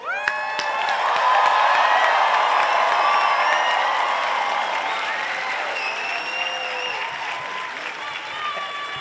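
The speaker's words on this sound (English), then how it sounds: "Friends and family, one huge round of applause for our graduates." A large crowd of friends and family at a college commencement ceremony applauds and cheers the graduates, with dense clapping, whoops and shouts sustained across the clip and slowly tapering.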